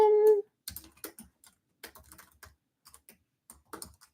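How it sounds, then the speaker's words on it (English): Typing an email on a computer keyboard: irregular bursts of close, crisp key clicks with short pauses between them, following a brief tonal sound at the start. "I am going to type in my email and pin it"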